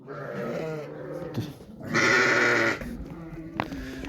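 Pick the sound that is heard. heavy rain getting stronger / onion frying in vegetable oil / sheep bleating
sheep bleating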